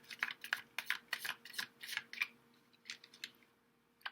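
Tarot cards shuffled by hand in a series of quick, crisp riffling bursts, fairly close and alone, with short pauses between flurries.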